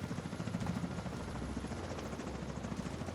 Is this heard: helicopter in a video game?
yes